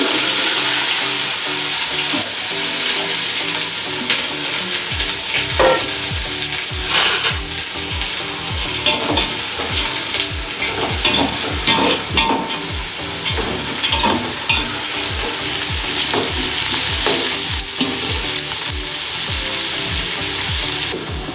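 Sliced onions sizzle and fry in hot oil for a biryani, with steady close crackling broken by repeated scraping stirs of a spatula through the pan, no voices present.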